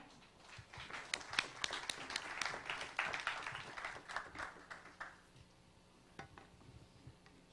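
Scattered applause from a small audience at a venture forum welcoming a presenter, a loose patter of claps that swells for several seconds, then dies away to a few isolated claps; fairly quiet overall.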